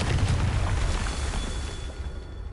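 A Confringo blasting spell explodes in a Hogwarts video game: a loud, sustained booming burst with heavy low rumble that slowly fades over a couple of seconds, with no voices.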